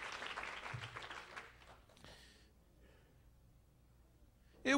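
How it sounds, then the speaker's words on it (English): Scattered applause from a church congregation, strongest at first and fading out over a couple of seconds, leaving a quiet room with a sharp noise at the end. "Give God a hand clap of praise today as you're seated."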